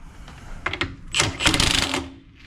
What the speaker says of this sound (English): We're going to use the big Milwaukee impact, hopefully spin it right off